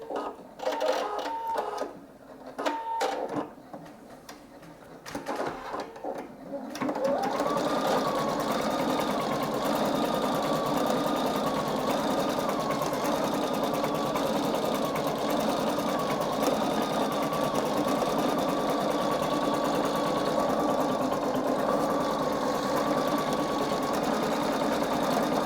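A Singer EM9305 embroidery sewing machine starts stitching after a few quiet clicks and runs steadily, a loud, close, even mechanical whir with a rapid needle rhythm that holds at constant level for about twenty seconds.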